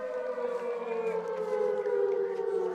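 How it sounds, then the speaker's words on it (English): An air raid siren sounds at a varsity high school football game, a steady, sustained droning wail heard from a distance, continuous throughout with no voices over it. "There's the air raid siren in the background."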